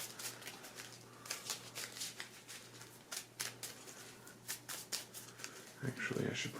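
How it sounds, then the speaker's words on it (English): Deck of Marvel Champions cards shuffled by hand in repeated quick riffles and flicks, soft and close, with a brief murmur of voice near the end. "I'm going to shuffle that up here."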